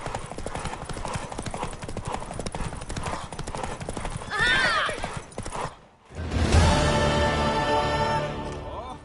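A horse gallops in The Witcher 3: Wild Hunt during a race, its hooves clip-clopping rapidly and continuously up close. A whinny, a brief lull, then music and game sounds swell over the hoofbeats.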